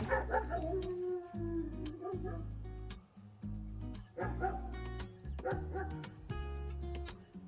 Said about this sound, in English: So, Cujo likes to alert everybody if anything goes on, which is really good